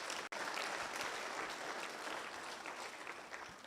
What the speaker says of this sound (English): I think we need to give her a better clap,